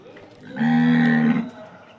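A cow gives a single loud, sustained moo lasting under a second, close by, in a farm setting as it is led outside in the morning with its young calf nearby.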